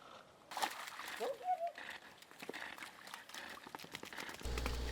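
Water splashes and sloshes in irregular bursts as a dog chases a stick through shallow lake water, with a voice talking over it.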